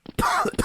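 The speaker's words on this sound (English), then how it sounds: "The coughing really adds to it." Game character in Garry's Mod coughing from a common cold, a short close burst of two or three hoarse coughs.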